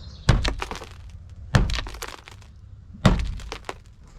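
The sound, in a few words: hitting side of old camper, rust falling out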